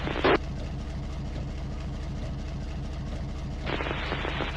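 A locomotive engine in the Trainz 19 video game rumbles and idles steadily with a low, continuous drone, interrupted by brief bursts of hissing air near the start and end.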